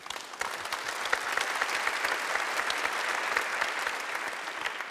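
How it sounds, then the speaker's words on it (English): Audience applause at a philanthropy panel event, dense sustained clapping from a sizeable crowd that stays loud and even throughout, with no talk over it. "Thank you for your applause."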